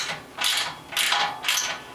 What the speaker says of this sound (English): Finishing tightening up the side bolts